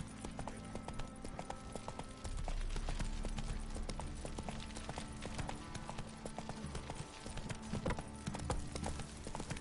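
Horse hooves clip-clopping at a steady walking rhythm in the video game The Witcher 3, close and continuous over faint ambient background, with no talk.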